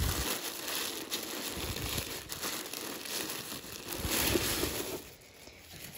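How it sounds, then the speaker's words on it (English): A mailed package has its wrapping ripped open, giving several seconds of steady crinkling and tearing close by, which eases off toward the end. "Nicely packaged. Let's rip this off."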